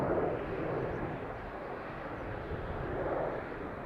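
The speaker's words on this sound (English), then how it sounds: "Speedbird 429 A320-200 outbound London Heathrow" A British Airways Airbus A320-200 departs from a busy airport, its distant jet engines a soft, continuous roar that swells gently at the start and again near the end.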